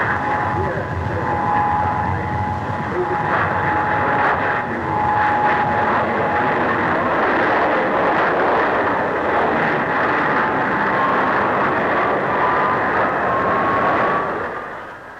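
Early English Electric jet aircraft flying at a 1950s Farnborough airshow, a loud sustained engine roar with a slowly shifting whine that swells and fades over about fifteen seconds.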